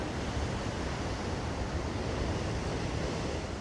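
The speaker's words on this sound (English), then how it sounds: "Crashing waves right at the edge." Ocean waves at Bondi Beach make a continuous, even wash of surf noise with a windy edge and no distinct individual crashes.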